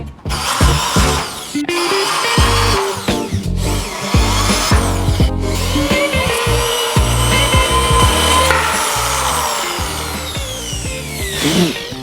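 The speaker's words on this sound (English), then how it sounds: "I'm gonna drill some pilot holes" A power drill whirs loudly, drilling pilot holes in wood on a boat trailer being converted into a utility trailer, for several seconds at a time, with brief pauses and grinding shifts in pitch as the bit bites.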